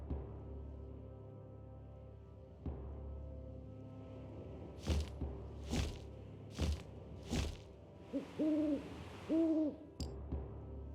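In an I Spy fantasy video game, a bird's hooting sound effect plays as two soft, owl-like hoots late in the clip, after a few sharp thumps and a quiet background hum.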